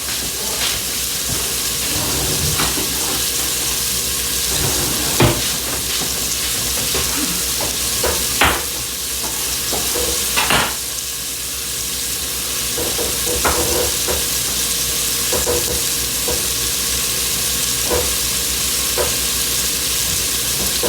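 Beef stew meat browns in a pot with a steady sizzling hiss, broken by several sharp scrapes and clanks of stirring; no one talks.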